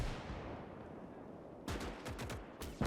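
Battlefield gunfire from the Gates of Hell war game: a low distant rumble of artillery, then a burst of several sharp rifle or machine-gun shots in quick succession, fairly quiet in the mix.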